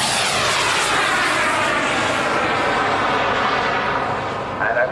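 The small engine of an RC model sailplane drones loud and steady as the plane flies at an outdoor airshow, a continuous buzzing roar that fades slightly toward the end.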